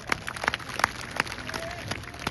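Spectators at a traditional Punjabi wrestling bout in Nagar Survind, Tarn Taran, give a thin, scattered round of hand claps, sharp individual slaps spaced irregularly over a quiet background.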